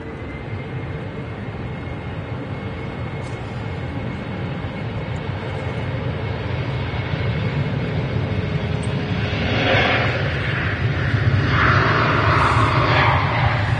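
A Finnair airplane arrives at Manchester Airport with a steady, loud broadband roar that builds gradually. Hissy whining swells come in near the end, and there is no talk.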